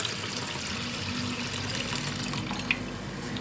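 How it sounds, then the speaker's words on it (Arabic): Cold water pours into a pot in a home kitchen while making belila, a steady splashing stream running continuously at moderate loudness with a faint drip near the end. "هبدا بقى ان انا احط ميه"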